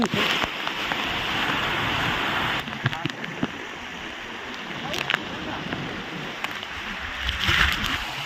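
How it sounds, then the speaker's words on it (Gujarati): Heavy monsoon rain pours on Girnar mountain, a loud steady wash of falling water on stone steps that eases partway through, with brief knocks and rustles near the end. "હવે ગિરનારમાં ફૂલ વરસાદ વધી ગયો છે હો ભાઈ"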